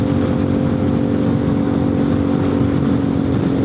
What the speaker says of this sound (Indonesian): Pakai motor X-Max